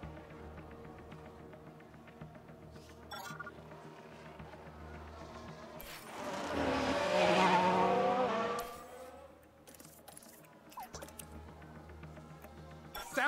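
A race car in the F1 Manager 2022 video game locks its brakes at the Red Bull Ring, a rising tire squeal swelling over about three seconds amid a field of buzzing engines, then fading back to engine drone.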